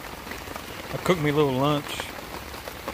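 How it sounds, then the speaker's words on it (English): Steady rain patters on surfaces outdoors on a soaking rainy day, a continuous close drizzle of drops while someone talks briefly over it. "So as you can probably hear, you can't really see it on camera, but it's raining."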